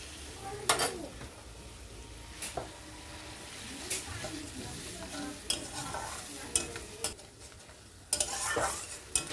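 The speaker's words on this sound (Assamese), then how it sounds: "আৰু এতিয়া মই মছলাখিনি 1 পৰা 2 মিনিট টাইম ভালকৈ ফ্ৰাই কৰি ল'ম" Spice masala paste with a little water fries in a pan, a steady sizzle broken by repeated scraping stirs of a spoon, loud and close, with no voices.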